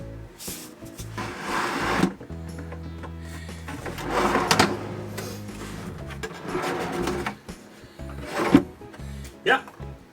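A wooden drawer slid into a cabinet in a boat shed, giving several close scraping, rumbling runs of wood on wood with knocks as it seats, with a person talking between the movements.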